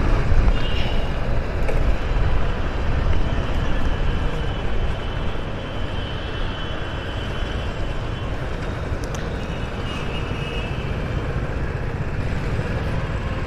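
A 2019 Royal Enfield Classic 350 motorcycle with no exhaust gives a steady, rumbling engine drone throughout at an even level, with broadband road and wind noise mixed in.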